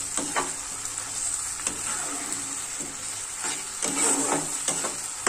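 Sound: frying and stirring masala for doi katla curry

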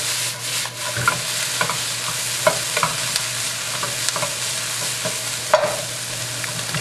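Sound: spring roll filling cooking in a pan

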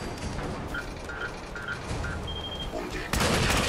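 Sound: gunfire in Fallout 4 video game

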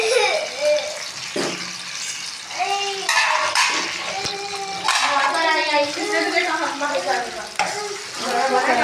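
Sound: garlic frying in ghee for dal tadka

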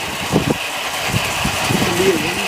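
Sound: homemade tractor engine running with PTO engaged

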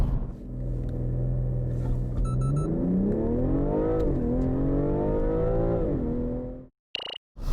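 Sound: BMW M340i xDrive Touring turbo engine accelerating

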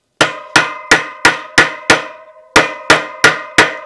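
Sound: tapping bearing into DT Swiss bicycle hub shell

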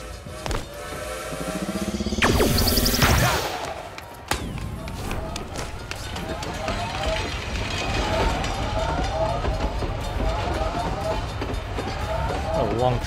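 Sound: long train passing in the video game Knockout City

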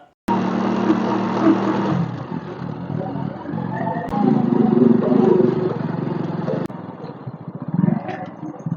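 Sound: motorcycle riding on rough dirt road

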